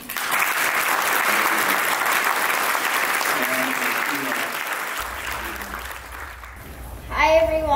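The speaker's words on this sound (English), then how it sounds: "let's give him a round of applause" Audience applause at a talk, a sustained burst of clapping from a crowd that gradually thins and fades, followed by a voice and a voice near the end.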